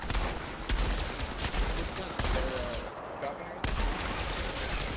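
Sniper rifle gunfire in the video game Destiny, a series of sharp shots repeated at irregular intervals over steady game background noise, with voices talking in the mix.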